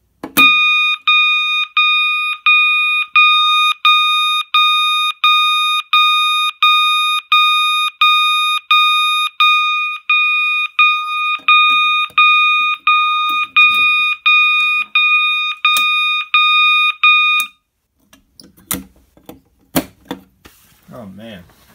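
A fire alarm system under test sounds an 800 Hz interrupted tone: loud, evenly pulsed beeps repeat steadily for about seventeen seconds, then stop abruptly, followed by faint rustling and a few clicks.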